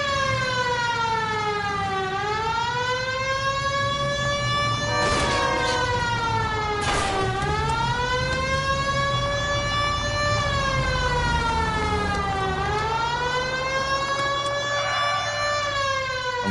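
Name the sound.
police car siren in video game LA Noire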